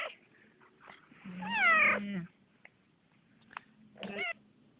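A cat giving birth lets out a long, strained, wavering meow, followed by a shorter cry a couple of seconds later, close by with faint rustling between.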